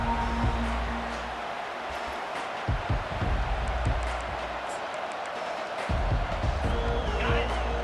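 Stadium crowd in College Football 25 roaring in a sustained, dense wash of noise, with cheers swelling at times beneath a commentator's voice.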